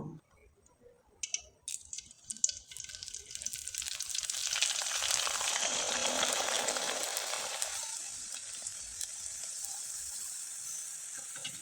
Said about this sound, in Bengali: এখন আমি কিছুটা পিঠা তেলে ভেজে দেখিয়ে দেব